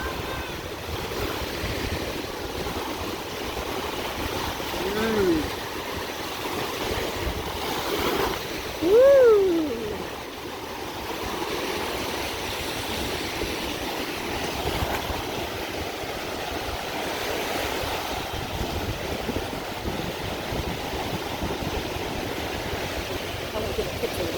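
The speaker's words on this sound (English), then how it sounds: "See, the waves are coming in so strong." Waves roll onto a beach in a steady, broad wash of surf and wind that lasts throughout. A person lets out a brief excited whoop partway through.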